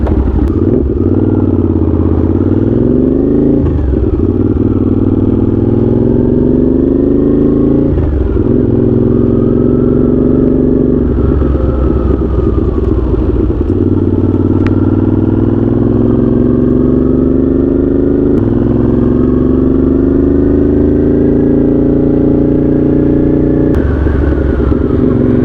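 Honda GL650 motorcycle engine running loud and close for the whole stretch, rising and falling through repeated revs with a rough, throbbing low drone and occasional clattery bursts.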